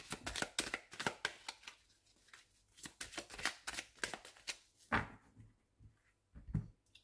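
An oracle card deck cut and shuffled by hand on a table, giving a close series of soft riffling snaps and taps at an uneven rhythm with brief pauses, and no talk over it.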